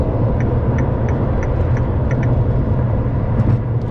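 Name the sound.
LaFerrari engine while driving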